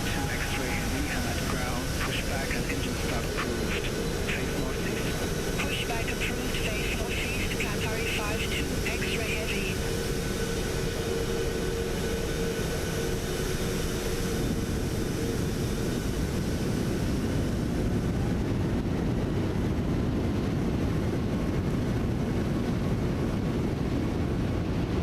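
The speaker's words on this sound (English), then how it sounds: "Let's check out that touchdown one more time." A Boeing 737 MAX 8 touches down in MSFS 2024 with a steady roar of engines and rushing air, and the noise rises into a broad rumble toward the end. Someone talks over parts of it.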